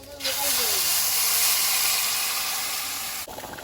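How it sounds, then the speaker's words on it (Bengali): Water at a vigorous rolling boil in a cooking pot on the stove, a loud steady hissing, bubbling roar that fills the space, cut off abruptly near the end. "এত জোর ফুটছে কেন বলো তো"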